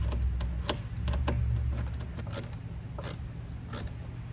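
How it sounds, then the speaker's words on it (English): A small ratcheting Allen head tool tightens bolts on a floating fire pit for boats, giving scattered sharp clicks and ticks over a steady low background hum. "It's a little ratcheting Allen head tool."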